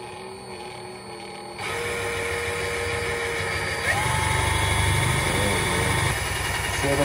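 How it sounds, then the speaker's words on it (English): A large drill bit bores through a glass bottle resting on a wobbly flat surface, a steady motorized whine that starts abruptly and runs loud and continuous, rising in pitch as the bit bites into the glass. "And you get the biggest drill bit you can find."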